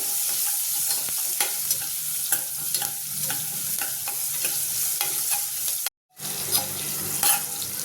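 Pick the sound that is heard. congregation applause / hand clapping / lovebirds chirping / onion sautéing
onion sautéing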